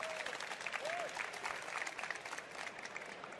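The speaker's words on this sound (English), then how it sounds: "a huge shout out and a round of applause for them" Audience applause at a Cisco Live 2024 Melbourne session for the Women of Cisco organizers, continuous crowd clapping at moderate distance, with a faint whoop or two rising above it.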